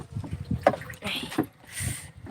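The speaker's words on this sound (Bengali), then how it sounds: "ও নৌকাটা একটু চালাবে বৈঠাটা ধরবে" A wooden boat rowed with an oar on a village river, with splashing strokes and water sloshing up close, wind buffeting the microphone and voices nearby.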